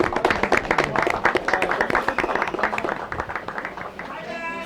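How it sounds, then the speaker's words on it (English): A round of applause for a woman at a community gathering, a run of quick clapping with voices talking and cheering over it, tapering toward the end. "Let's give a round of applause for her"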